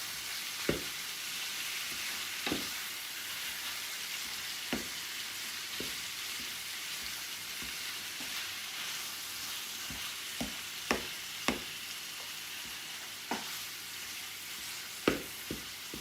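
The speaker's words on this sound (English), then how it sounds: "I just want to cook my hamburger to brown it and break up the pieces" Hamburger meat browns in a pan, sizzling steadily while a utensil breaks it up with scattered scraping taps against the pan.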